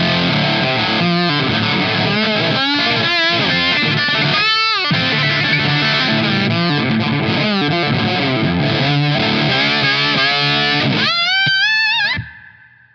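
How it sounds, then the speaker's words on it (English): Distorted electric guitar played through a Tungsten 5-watt Plexi-style amp with spring reverb in the effects loop, loud and continuous with sustained chords and bends, then ringing out and fading at the end. "So it's a Plexi with a spring reverb now"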